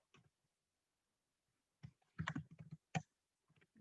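Sparse, close clicks of a computer mouse and short bursts of keyboard typing, quiet with silent gaps between them.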